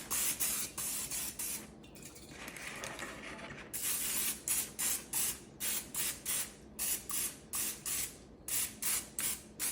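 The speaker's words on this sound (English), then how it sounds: "we're gonna spray our parchment real quick" Aerosol cooking spray hisses onto parchment paper in a long continuous burst, then in a rapid series of short, even puffs close by, with no talking.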